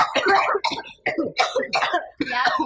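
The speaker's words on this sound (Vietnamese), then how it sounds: "ho nhiều quá" A person coughs repeatedly in a harsh, rapid series of bursts separated by brief gaps, close and loud, during a domestic scene in a Vietnamese family TV drama.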